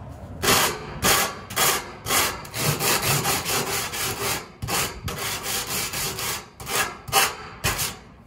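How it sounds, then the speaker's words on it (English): Coarse 40 grit sandpaper rasps back and forth over wood on a garage build, in steady rhythmic strokes with brief pauses, loud and close with no voices. "So I just got some 40 grit sandpaper."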